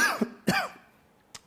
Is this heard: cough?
yes